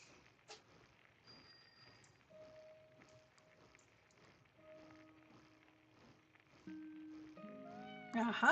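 Drawn-out meows from a pet cat in the video game Heartopia come in a few steady calls, building to louder, more insistent cries at the end over soft background game sounds.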